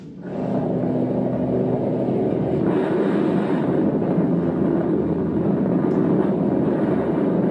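A steady, loud droning engine hum with a low rumble from two single-engine planes, constant throughout and without voices.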